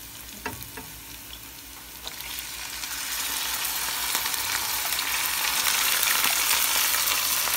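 Marinated chicken and pork for adobo sizzle in a pan, starting with a few clinks of stirring before the frying swells into a louder, steady hiss.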